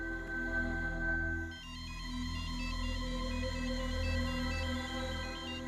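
A phone ringtone plays a repeating electronic melody for an incoming call, steady and moderately quiet over a low continuous hum, with no talking.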